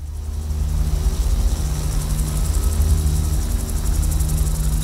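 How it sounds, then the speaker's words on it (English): A German Eurocopter EC-135 helicopter with twin jet engines, out on the wilderness coast of south-east New South Wales, gives a loud, steady turbine drone with a deep rumble and a high whine. It holds close and constant throughout. "It's a German helicopter. It's called the Eurocopter EC-135. It's got 2 jet engines"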